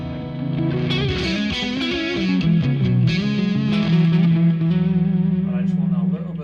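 An electric guitar with a maple neck rings out through chorus and a light overdrive, sustained chords and notes shimmering with a slightly gritty edge, played steadily and close.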